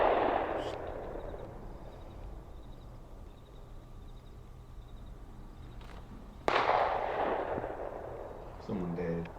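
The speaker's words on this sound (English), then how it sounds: "That's a pistol." A pistol gunshot plays back from a video: a single sharp, loud crack bursts out partway through over a steady hiss of background noise, with a smaller burst near the end.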